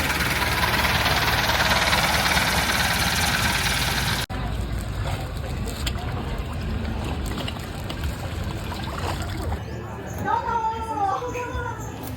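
A small boat engine drones loudly and steadily as it passes along Khlong Bang Luang canal in Bangkok, then fades into the background while a person talks.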